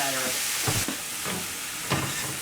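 Vegetables sizzling and softening in butter in a pan over medium-high heat, a steady crackling fry with a few louder scraping stirs.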